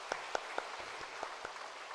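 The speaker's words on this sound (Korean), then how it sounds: "우리 박수 한번 쳐주시고" A church congregation at a Sunday worship service gives a brief round of applause, the individual claps thin and sparse and carrying faintly through a quiet hall with a hum underneath.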